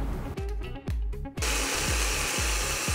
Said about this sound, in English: Now just give that a head start in the blender.